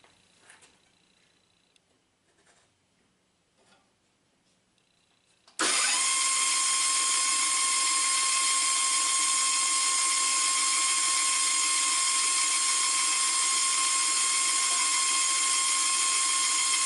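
A power tool cuts into a piece of wild cherry wood during knife-handle prep, starting abruptly after a quiet stretch and then running as a loud, steady, high-pitched whine with a constant tone, close by and alone.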